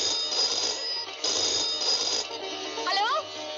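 An old landline telephone ringing indoors, loud bursts of bell ringing repeating in a regular pattern, with a voice speaking over the end of the rings.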